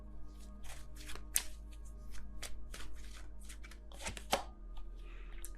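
Tarot cards being shuffled and drawn by hand, with close, crisp flicks and slaps in an uneven rhythm over a steady low hum, and no voice.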